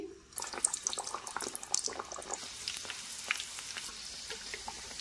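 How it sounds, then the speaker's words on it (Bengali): Puri sizzling in hot oil, a steady bright crackle and bubbling that starts abruptly and keeps going at a moderate, even level without talk. "এখন আমি গরম তেলের উপর পুরিটা ছেড়ে দিচ্ছি"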